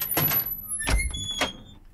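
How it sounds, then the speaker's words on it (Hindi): A car door opens with a few short thunks and latch clicks during a tense action scene, close and moderately loud, with no talk over it. "दरवाजा खोलो,"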